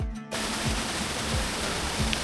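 Cold mountain spring water on the Karakoram Highway route to Astore, a steady broadband rush of flowing water close by that starts abruptly and continues without talk.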